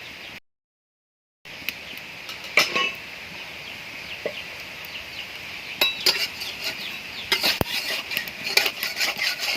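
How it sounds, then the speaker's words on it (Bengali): Food fries in a wok in a small amount of white oil, a steady crackle with clinks of a utensil against the pan growing busier toward the end, close by in a village kitchen, with a brief silent gap near the start. "একটু সামান্য পরিমাণে সাদা তেল দিয়ে দিয়েছি এখন এটা ভাজা হচ্ছে"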